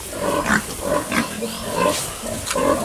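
Fattening pigs in a pen with coconuts to play with grunt and oink repeatedly, several close, overlapping snorts and squeals rising and falling in an uneven rhythm.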